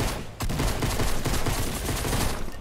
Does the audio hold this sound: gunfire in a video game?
yes